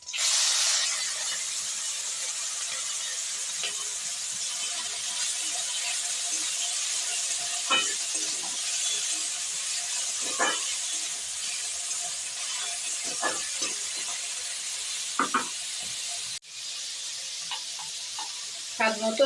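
Chopped banana blossom hisses and sizzles steadily in a hot pan, with intermittent scraping taps as it is stirred, loud and continuous throughout.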